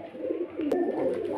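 Pigeons kept for sale coo in low, rolling bursts close by, a steady throaty murmur with a brief sharp click partway through.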